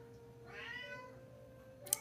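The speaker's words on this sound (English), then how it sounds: "that cat's going crazy." A house cat meows loudly indoors, one drawn-out, wavering yowl up close that tails off before a brief sharp click, with no talking over it.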